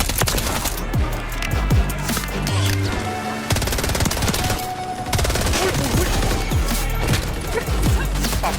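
Rapid bursts of automatic gunfire crackle almost continuously, with loud synthetic shots layered over a busy game soundtrack.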